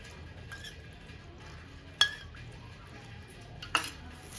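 Homemade Holi colour powder being mixed with a drop of lavender oil, quiet faint stirring with two sharp clinks of a utensil against a dish, close and otherwise hushed.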